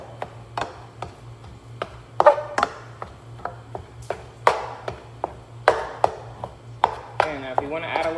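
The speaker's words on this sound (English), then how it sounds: "I'm gonna break that meat up." A spatula knocks and scrapes against a pan as it breaks up meat, about a dozen sharp, irregular taps over a steady low hum, with no talking.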